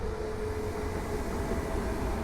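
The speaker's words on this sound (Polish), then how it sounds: "pociąg osobowy do Skarżyska Kamiennej" A passenger train bound for Skarżysko-Kamienna rumbles steadily at a Warsaw station, a continuous near, loud rolling roar with a faint tonal whine and no talk.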